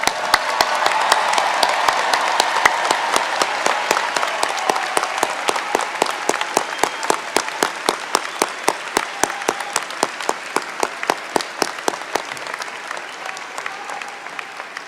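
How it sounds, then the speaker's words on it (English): A large audience at a university commencement ceremony applauds the graduating students, a dense sustained roar of clapping that slowly thins into distinct rhythmic claps before trailing off. "Let's give those students one more round of applause."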